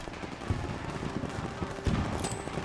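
Gunfire in Call of Duty WW2 during a Rhine assault, a rattling stream of rifle and machine-gun shots with a couple of heavier bursts, fairly close and continuous.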